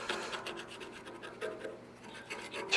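Paint being scraped off a cold rolled steel test coupon, with a rough, rasping scrape running in several uneven strokes at close range and moderate loudness, no talking.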